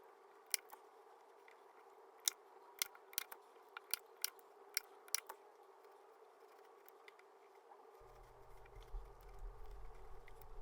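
Scissors snip through upholstery batting for a velvet bed bench with a quick series of sharp, close cuts. A low hum comes in near the end, and no one talks.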